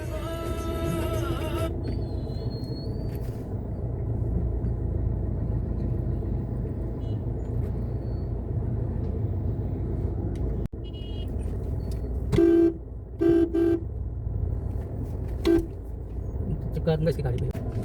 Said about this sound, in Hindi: बाप रे इतना ट्रैफिक।